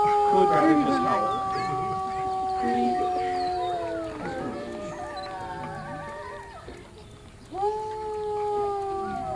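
Several wolves at a wolf park howl together in long, sliding, overlapping tones that rise and fall, fading partway through before a fresh howl swells up near the end; people talk quietly underneath.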